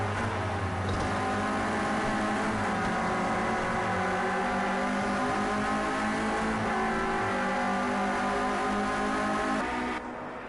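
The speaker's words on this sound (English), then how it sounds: "You'll taste the fumes out of the exhaust of Scott McFall's car there." Renault Clio Cup race car engines in the Project CARS 2 racing game roar steadily and loud for the whole stretch, several cars close together with rising and falling revs, the sound cutting off at the very end.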